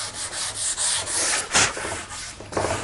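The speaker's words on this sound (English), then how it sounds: "all this is doing is removing the 80 grit scratches from the wood" Sandpaper rubbing back and forth on a filled wooden surface to smooth out 80 grit scratches, a close, steady rasping with uneven strokes and no talk.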